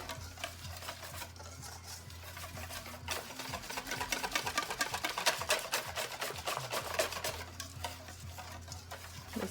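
A whisk beats a mixture until it is fluffy and free of lumps, giving a fast, steady ticking clatter against the bowl that grows busier in the middle, quiet and close, with no talk.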